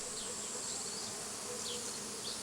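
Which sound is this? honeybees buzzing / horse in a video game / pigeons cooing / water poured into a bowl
honeybees buzzing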